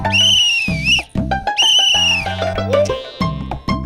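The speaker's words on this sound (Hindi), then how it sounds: "बाबूजी ने 4 सीटी मारी, देखो ना" Loud whistle blasts, several long shrill tones in quick succession over a steady background tone, used as a household signal in a Hindi superhero comedy series.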